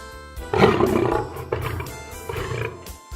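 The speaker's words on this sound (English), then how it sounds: "Lion" A lion gives a deep, loud roar that swells and trails off into rumbling grunts, close and powerful with no other sounds around it.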